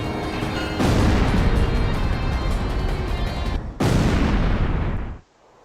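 Missiles strike and explode in the combat flight game Ace Combat X, two long, loud, roaring blasts that cut off sharply, the second ending in near silence.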